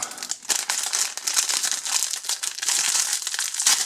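Close, crackling crinkles of a paper wrapper being peeled open from around a cheeseburger, arriving in quick irregular bursts with brief pauses between handfuls of rustling.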